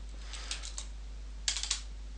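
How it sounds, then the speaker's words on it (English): Computer keyboard typing a terminal command on a CentOS system, a few quick bursts of crisp key clicks alone against quiet background hum. "we can type in ifconfig"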